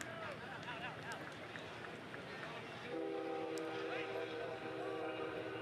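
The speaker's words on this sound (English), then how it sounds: "That's a train horn, not a first half horn you hear in the background there." A train horn sounds in the distance with steady harmonic tones starting midway, under continuous crowd noise and speech at a collegiate rugby sevens match.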